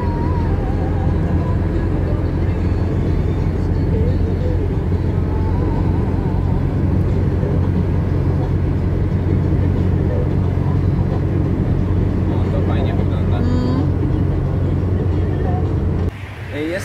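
A 40-year-old car driving along roads through Polish villages and small towns, a loud, steady interior engine and road rumble that continues unbroken before cutting off near the end.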